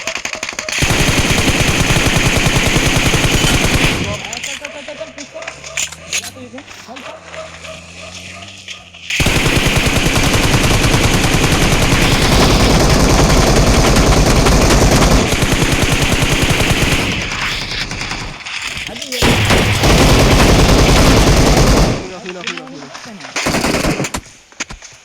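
Rapid automatic gunfire rings out in a shooting video game, in long, loud, sustained bursts with brief pauses, while players' voices talk over and between the shots.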